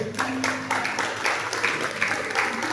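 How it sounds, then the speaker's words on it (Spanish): Church congregation applauding during a worship service, a dense steady wash of clapping that fills the whole stretch at even loudness, with a voice faintly present underneath. "Dale un fuerte aplauso a Dios."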